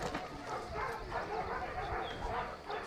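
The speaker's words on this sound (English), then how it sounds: "this is a dialing in and Wild Again pup" A young dog pup barks and yips in quick bursts over a noisy, busy background.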